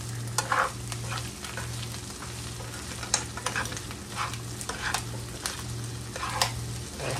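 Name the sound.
stirring egg into frying ground pork sisig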